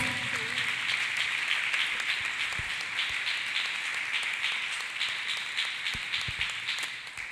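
A church congregation claps hands for Jesus Christ in a continuous, even patter of many hands that holds steady throughout and fades slightly at the end.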